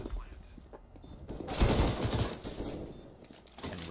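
Gunfire in CS:GO during a competitive match, a burst of rapid SMG shots at close range, fairly loud in the middle, with faint scattered sounds before and after.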